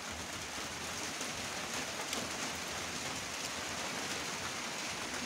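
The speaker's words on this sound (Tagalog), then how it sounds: "Hindi ko na mailipat kasi ulan ng ulan. Sobrang lakas ng ulan." Heavy rain on a cold, foggy morning pours down in a steady, dense hiss that stays even and loud from start to finish, with no voices over it.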